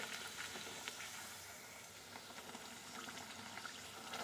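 Luchi, a puffy Bengali puri, frying in hot oil, a faint steady bubbling fizz heard close with no voices.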